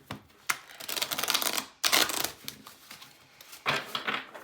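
Tarot cards shuffled by hand during a reading, heard as several close, crisp riffling bursts separated by brief pauses, with no voice.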